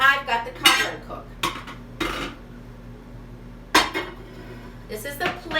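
Dishes and a plate cover are handled, giving several sharp clinks and clatters of ceramic and glass spaced apart, with faint background sound between them.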